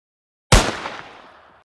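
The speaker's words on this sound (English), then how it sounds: "Gun." A single sharp gunshot that cracks suddenly and then fades through a short echoing tail, loud and isolated against silence.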